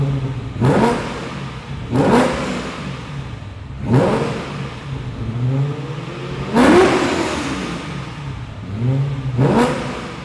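A car's 5-litre V8 with a cross-plane crankshaft revs repeatedly, five loud close blips rising and falling over about ten seconds, with no voices.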